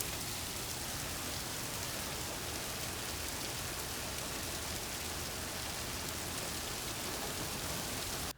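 Rain falls in a steady, even hiss, soft and distant-sounding, with no pauses and no voices.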